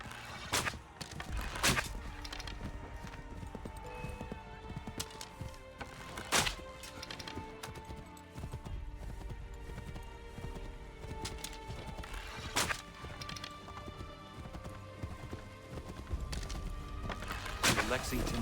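A horse gallops in Assassin's Creed 3, its hoofbeats drumming steadily under game music and scattered sharp impacts for the whole stretch.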